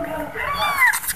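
A cat giving birth to kittens gives a short meow with rising and falling tones, close by, over quiet background noise.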